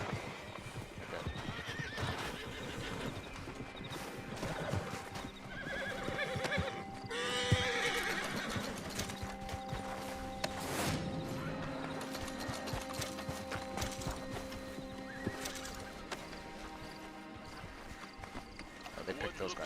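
A horse in a Western video game clip-clops along and whinnies repeatedly, its hooves rhythmic and close amid gunfire-like bangs and game sounds, with someone talking over much of the action.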